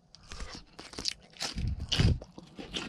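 Crunchy romaine lettuce, onion and kimchi are chewed close to the mic, with several loud, wet crunching bites and chews over about three seconds and no talk.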